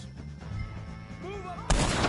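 Gunfire in a Red Dead Redemption 2 shootout with O'Driscoll gang members: a heavy, booming shot breaks through near the end after a low rumbling battle bed and a brief shouted voice.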